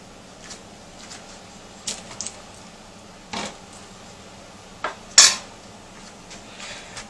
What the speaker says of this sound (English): I'm gonna take a spoon and put 3 tablespoons of coconut oil.